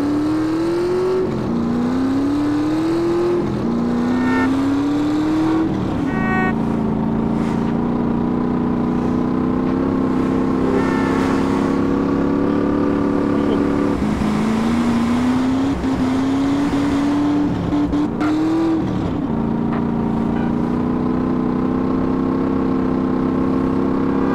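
Cars drive fast in the game GTA, engines revving and shifting through gears in repeated rising sweeps, loud and continuous over a low rumble.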